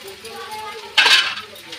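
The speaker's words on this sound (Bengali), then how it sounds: "দেখুন আমি একটু বেশ শুকনো শুকনো করে নাড়িয়ে নিই।" Ground roasted cumin, coriander, fennel and dried red chilli are stirred dry in a frying pan for a vegetable chop recipe, a steady close sizzle under a low voice, then a brief louder scrape and hiss.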